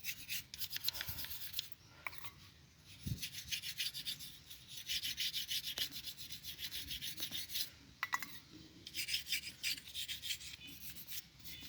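An old engine is being scrubbed with petroleum, giving a steady, soft, close rasping rub in repeated strokes with a few brief pauses and no talk.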